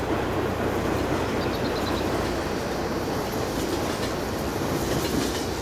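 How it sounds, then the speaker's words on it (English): A passing train in the farming game Farming Simulator 22, a steady rolling rumble with wheel clatter that holds at an even, fairly loud level throughout, with no talk over it. "Oh, there's a train."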